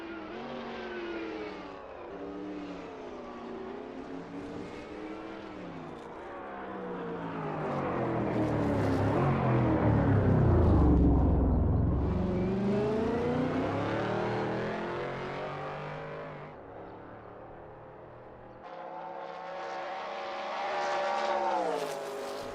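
A race car at Le Mans in a racing video game, the engine revving and shifting through gears as it approaches, roars loudly past and pulls away, with no talk.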